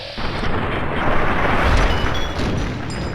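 A gunshot in Fallout New Vegas, a loud booming blast that swells and lingers for a couple of seconds with a dense rumbling tail, no talk.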